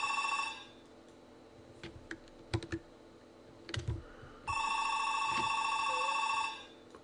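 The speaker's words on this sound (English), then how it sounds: "Hang on, I got to get the phone." A telephone ringing indoors in two bursts of electronic trilling, the second longer, with scattered computer keyboard clicks between them; moderately quiet and nearby, with no talking.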